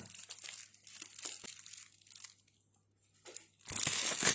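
Layered parcel packaging is unwrapped up close: bursts of crinkling, crumpling plastic and tearing tape, a short quiet pause, then a louder rush of crinkling at the end.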